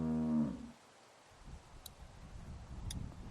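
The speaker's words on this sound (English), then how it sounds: "Do you want to pet the cow with me?" A cow in the video game The Walking Dead lets out a short, deep moo at the start, then fades to quiet ambience with faint ticking.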